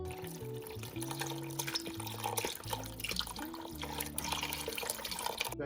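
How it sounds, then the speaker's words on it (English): Beef broth pours into a pot roast in a steady, close liquid splash and gurgle, alone and fairly loud for several seconds. "I'm going to go ahead and add just a little bit extra beef broth"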